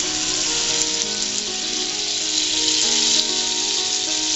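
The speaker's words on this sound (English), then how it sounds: "Now I'll add the butter and some oil." Butter and oil sizzle steadily in a frying pan, a loud, continuous close-up hiss and crackle that stays even throughout with no talking.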